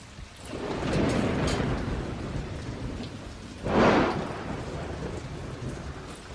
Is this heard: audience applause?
no